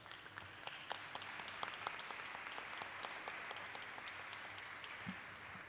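Audience at a panel of the México en el Mundo forum gives sustained applause, crisp individual claps scattered through a soft, distant wash of many hands, heard alone without speech.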